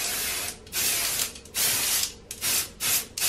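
Four bursts of aerosol spray hissing from a can, each lasting about half a second, separated by short pauses, close and fairly loud.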